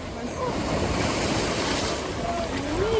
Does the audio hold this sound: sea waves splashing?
yes